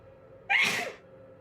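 A single loud, sharp human sneeze bursts out close to the microphone, lasting about half a second against a quiet background hum.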